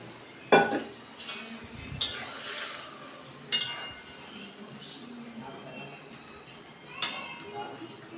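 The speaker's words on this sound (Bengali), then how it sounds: "ঝোলটা ফুটে উঠেছে এখন আমি পুটি মাছগুলো দিয়ে দেব" Puti fish going into a simmering tomato, potato and onion curry broth in a pot, with four sharp metal clanks of a utensil against the pot over a quiet bubbling background.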